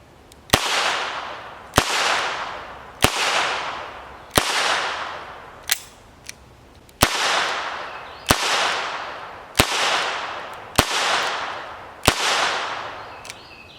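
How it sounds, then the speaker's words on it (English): Ten sharp shots from a Henry Golden Boy .22 revolver firing .22 Short rounds, spaced evenly about a second apart, each a loud crack with a decaying ring. No talking. "We're going to shoot 22 shorts, first 5 rounds, and then we're going to shoot 5 rounds of long rifle."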